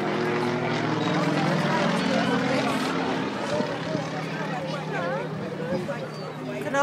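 An ex-military training aircraft built in 1987, formerly of the Russian Air Force, flies an aerobatic display at an Armed Forces Day event in Lowestoft, its propeller engine droning steadily under a commentator's voice.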